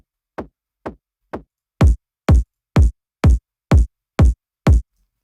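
Electronic kick drum shortened with a shaper, first as three thin hits, then eight punchier hits layered with a small top kick for character. The beats are steady, evenly spaced and close, with no other sound.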